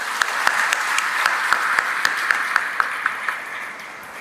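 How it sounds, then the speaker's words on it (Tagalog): A church congregation claps together in sustained, steady applause after a homily at a diocesan dawn procession honoring the Virgin, with a few sharper claps standing out. No one speaks over it. "bigyan natin ng papuri, pasasalamat at palakpak ang ating Panginoon Diyos."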